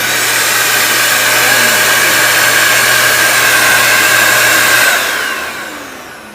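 A Deerma vacuum cleaner fitted with its carpet attachment runs with a loud, steady whining roar close by, then spins down and fades near the end.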